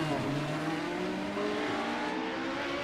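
A Radical race car engine in a racing video game drones loudly and steadily, its pitch climbing smoothly as it revs, with a rough, buzzing roar throughout.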